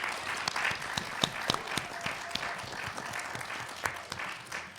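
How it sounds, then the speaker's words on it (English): A crowd applauds steadily at a middle school quiz show, many hands clapping at once in a dense, sustained patter of moderate loudness. "Round of applause."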